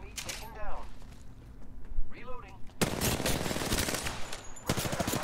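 An R99 submachine gun fires in Apex Legends, a dense, rapid burst of loud automatic shots that breaks out after someone talks briefly, then carries on almost without pause.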